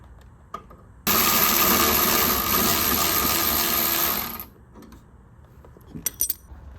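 A ratchet wrench spins a nut loose on a car's suspension, a loud continuous rattling whir lasting about three seconds before cutting off, followed by faint clicks and clatter.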